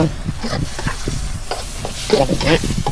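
Food stir-fries over a hot wood-fired stove at a Bangkok made-to-order rice stall, with loud close sizzling and rapid repeated clanking scrapes of a spatula against the pan.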